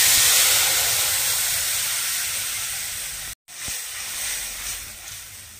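Ground spice paste sizzles loudly in hot oil for a fish curry after a black cumin tempering, a steady broadband hiss with a brief cut midway and continued frying afterward, no talk.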